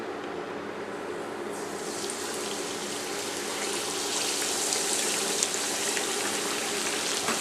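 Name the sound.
red snapper frying in hot oil in a skillet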